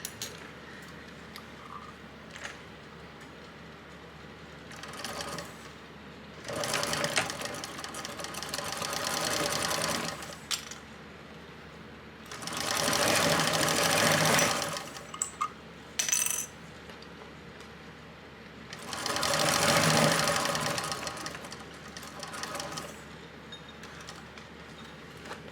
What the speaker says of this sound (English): And we're just gonna top stitch this at 1/8 of an inch seam allowance.